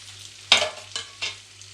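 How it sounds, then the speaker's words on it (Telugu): Tempering spices hit hot frying oil for a tomato egg curry, giving three quick bursts of sizzling and spluttering over a low steady hum. The bursts are close and sharp, with a brief quiet before the first. "ఈ కొద్దిగా చిటపట్లు ఆడే వరకు ఫ్రై చేసుకుందాం."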